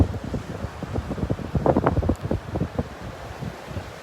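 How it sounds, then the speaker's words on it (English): Gusty onshore wind on a beach at Delnor-Wiggins, buffeting the microphone in uneven rumbling bursts that swell and fade over a soft background wash. "That wind. Just blowing it on shore."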